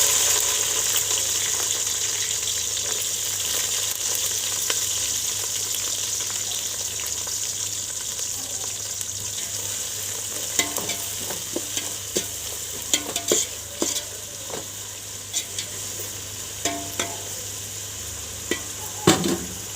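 A quarter kilo of onions sizzles steadily while frying in a pan for chicken kurma, with a spoon scraping and clinking against the pan in short bursts throughout, close and continuous.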